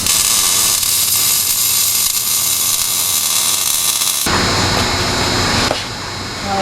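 Steady, loud, harsh crackling hiss of welding on the exhaust of a Square Body C10 truck, running continuously for several seconds before a sudden change partway through and then a slight drop.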